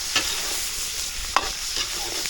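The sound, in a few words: stirring and sautéing garlic and onion in a pan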